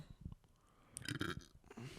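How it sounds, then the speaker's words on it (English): A man burps into a podcast microphone, a close, low, gurgling belch that swells in the middle of the moment and trails off into a rougher rumble. "How many times are you gonna burp into that microphone?"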